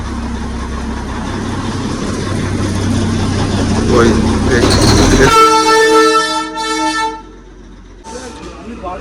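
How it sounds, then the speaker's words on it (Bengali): A Darjeeling toy train diesel engine at Darjeeling station during an engine change: a low, rumbling idle under a voice talking, then a loud, sustained horn blast that breaks off into a shorter final toot. "আর এই যে ইঞ্জিন এখানে চেঞ্জ হচ্ছে, এই ডিজেল ইঞ্জিনগুলো এইরকম।"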